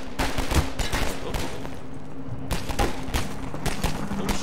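Rapid bursts of gunfire crackle continuously with thumping impacts in the video game Half-Life 2, dense and fairly loud, with no talking.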